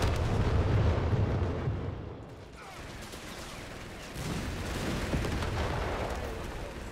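Bombing blasts in a coastal war video game, a loud rumbling barrage up front that eases into a lower steady roar and rises again, with no voices over it.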